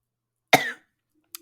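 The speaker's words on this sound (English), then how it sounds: "I had to cough just now, so I muted myself." A single sharp cough bursts out close to the microphone during an online chat, then cuts off abruptly. A tiny click follows after a short silence.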